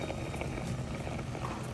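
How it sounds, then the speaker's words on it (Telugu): Prawns simmer in their own released water in a pan on the stove, a soft continuous bubbling and hiss, faint and steady with no talk. "ఇలా ఉడకబెట్టుకోవాలన్నమాట"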